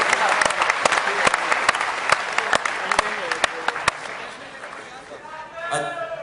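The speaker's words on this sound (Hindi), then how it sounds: "खुद के लिए जोरदार तालियां" A studio audience at a comedy talk show claps loudly, with crisp individual claps standing out in a dense patter that slowly thins out, and voices and a whistle-like tone surfacing near the end.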